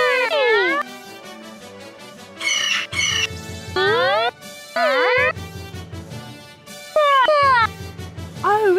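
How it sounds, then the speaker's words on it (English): Shrill squawking parrot calls from a jungle-themed toy playset come in several short bursts between bouncy background music, loud and close with no talking. "Okay, that was a parrot."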